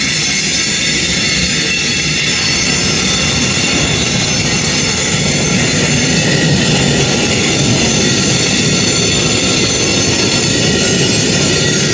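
A train rumbles steadily along the tracks, with a continuous roar of wheels and rail noise that stays loud and close throughout, no voices.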